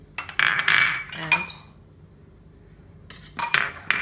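A spoon clinks and scrapes against a bowl while cashews are stirred into melted chocolate, in two close bursts of clattering separated by a short quiet pause.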